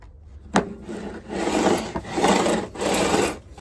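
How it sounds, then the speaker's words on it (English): A metal file works down the frets on a rounded guitar fingerboard. There are three or four steady rasping strokes, close and fairly loud, with a sharp knock at the start. "you're also putting a little pressure across here just to make sure that file is not just bouncing off these frets, it's also pushing in and filing it down"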